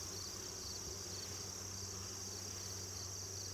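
Steady insect buzzing hums continuously at low volume, a dense drone of honeybees at a hive during a formic acid treatment, with no voices present.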